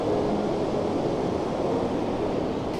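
The waterfall at Foroglio village in Valle Bavona, Switzerland, a steady broadband roar of falling water, constant and fairly close, with no talk over it.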